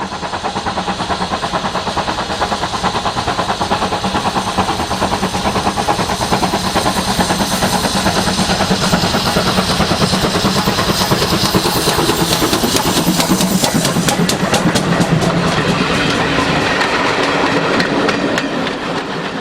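GWR 3802, a Collett 2800 class steam locomotive, working hard on the West Somerset Railway, its loud, rapid exhaust beats and mechanical clatter close by, continuous and unbroken throughout.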